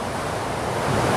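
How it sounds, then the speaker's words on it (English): Water rushes steadily at the Fort Worth Water Gardens, a broad continuous roar of falling water close by, rising slightly toward the end. "I hear the rushing of the water."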